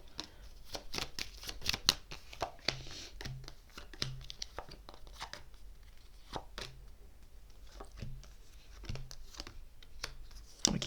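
Tarot cards being shuffled and drawn by hand, producing close, quiet riffles and rapid papery flicks in irregular bursts, with soft card snaps between them.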